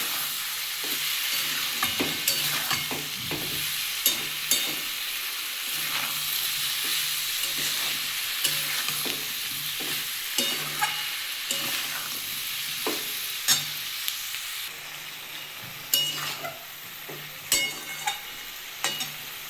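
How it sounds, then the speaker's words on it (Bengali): Dry spice masala with salt and a splash of water being stir-fried for a papaya, potato and prawn curry, a spatula scraping and clacking in the pan at an uneven rhythm over a steady close sizzle, with no talking. "আর একটু সামান্য জল দেবো কারণ শুকনো মশলা তো দিয়ে আমি এটা ভালো করে এবার কষিয়ে নেবো"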